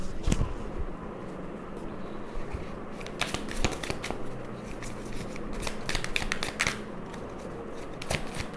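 Tarot cards shuffled and handled to pull a clarifier card, giving soft riffling and crisp card snaps at close range over a quiet room background.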